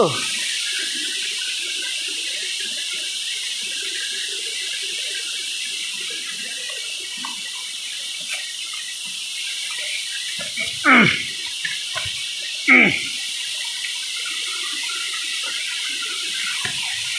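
A forest waterfall at Penchalakona gives a constant, broad rushing hiss heard from nearby. Two brief knocks or handling bumps break in near the end.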